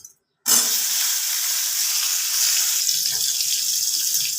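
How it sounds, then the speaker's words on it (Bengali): Chunky-cut onions dropped into hot oil for an egg mustard curry burst into a loud, bright, continuous sizzle right after a short silence, holding steady hiss for several seconds. "এই তেলের মধ্যেই আমি এই পেঁয়াজগুলোকে দিয়ে দিচ্ছি"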